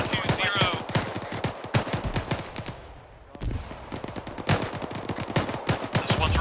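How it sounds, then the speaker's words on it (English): Dense gunfire in a military video game, with rapid automatic bursts and single shots cracking loudly and close in quick succession, a brief lull partway through, then heavy firing again. "Be advised, we're taking fire from 320."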